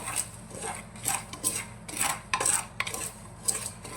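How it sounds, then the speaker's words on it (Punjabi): Black chickpeas are stirred over high flame in a pressure cooker while dry-roasting with salt: a steady run of metallic scraping and rattling clinks, close and fairly quiet, with no voices. "ਹੁਣ ਆਪਾਂ ਛੋਲਿਆਂ ਨੂੰ ਚੰਗੀ ਤਰ੍ਹਾਂ ਹਿਲਾ ਲਾਂਗੇ ਜੀ"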